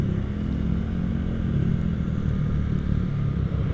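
A Honda Vario LED scooter engine drones close by with a steady rumbling, buzzing exhaust note and light mechanical clatter, with no talking.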